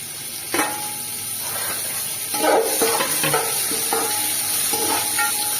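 Tomatoes fry in oil with onions and green chillies for spicy chicken pulao, a steady sizzle with a few louder stirring scrapes partway through, close and without talk.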